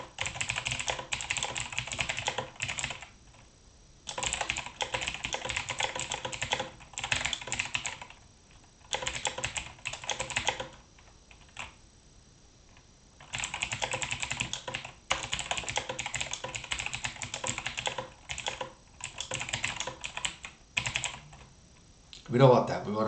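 Rapid typing on a computer keyboard, close and steady clatter in several long bursts broken by brief pauses, with no talking.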